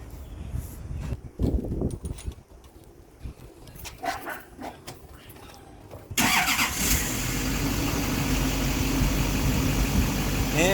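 Starter cranks a 2008 Duramax LMM diesel pickup after being replaced, a few seconds of faltering clicks and cranking, then the engine catches and settles into a loud, steady diesel idle close by.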